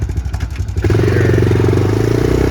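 A 1999 Honda Recon 250 ATV engine, just downshifted into neutral, chugs in a choppy rhythm before settling into a close, steady idle with a faint clatter.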